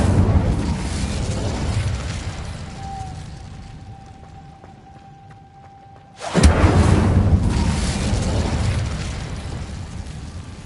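In the video game Hogwarts Legacy, an Incendio fire spell goes off as one sudden, loud blast after a quiet lull, followed by a long roaring rumble that slowly fades.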